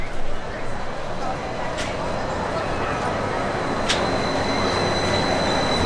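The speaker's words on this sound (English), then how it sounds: "Oh, the monorail's coming by." A Disneyland monorail rolling past outdoors, with a broad, rushing rumble of wheels and a couple of brief high squeals, sustained and moderately close.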